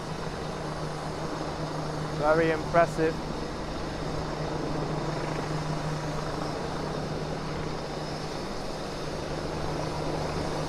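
A helicopter drones steadily overhead in Cobble Hill, Brooklyn, New York City, a constant low rumble that fills the whole stretch, with a short spoken remark early on.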